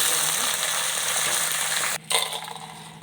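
Onions and curry leaves frying in a pan with chana dal, peanuts and cashews for pudina rice bath, a dense, loud, continuous sizzle that cuts out abruptly near the end and then resumes more unevenly.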